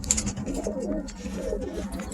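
Pet pigeons or doves coo softly inside a breeding cage, several overlapping low, rolling calls repeating steadily throughout at close range, with no voices.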